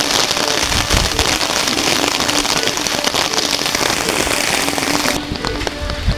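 Heavy rain pours steadily and loudly across the whole clip, a dense hiss of drops drumming on surfaces with scattered sharper splashes.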